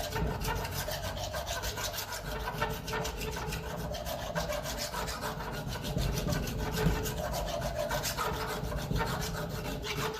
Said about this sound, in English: Sometimes when it comes to these parts, you just have to keep filing it and smiling